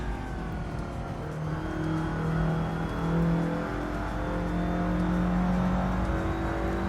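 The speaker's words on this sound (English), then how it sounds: "That 4G54B in this car, it just sounds so much like a truck engine." A car fitted with a 4G54B engine in Assetto Corsa Evoluzione drones with a deep, truck-like growl, holding a steady loud tone with slight rises in revs as it drives on.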